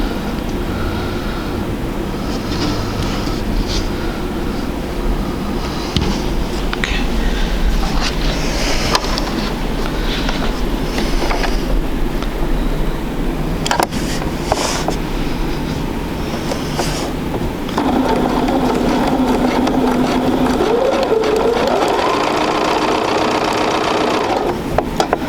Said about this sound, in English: All right, so I'm going to go ahead and sew those and sew this one.